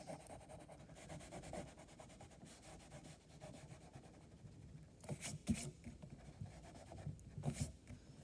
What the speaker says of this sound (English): And then what I'm going to do is I'm going to erase